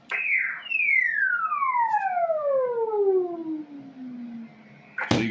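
Windup siren effect on a Uniden PC78XL CB radio: a rising chirp, then a long descending wail sliding down in pitch over a few seconds, heard through a speaker in the room, ending with a sharp clunk.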